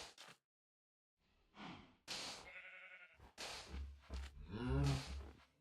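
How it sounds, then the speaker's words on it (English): Minecraft cows from the Better Than Wolves mod give a few short, fairly close mooing and bleat-like calls separated by brief silences, with a low rumble under the last one. "Oh, cows, be careful."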